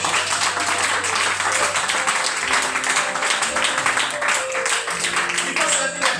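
Congregation applauding and clapping along during a lively church worship service, a steady continuous wash of clapping under music with sustained tones throughout.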